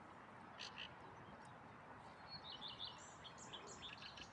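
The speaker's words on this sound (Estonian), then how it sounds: "Kuulake siis linnulaulu" Birds call and chirp in the open air, with a dove cooing among faint, scattered tweets and brief quacking calls over steady background noise.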